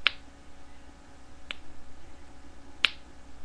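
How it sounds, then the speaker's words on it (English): Three sharp, isolated finger pops made by flicking the skin of a finger, each a quick crisp click spaced over a second apart in a quiet room. "I'm going to teach you guys how to make the finger popping sound"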